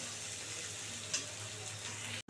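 Ginger, garlic and tomato frying in a pan, a steady soft sizzle holding evenly and fairly quiet before it cuts off abruptly at the end.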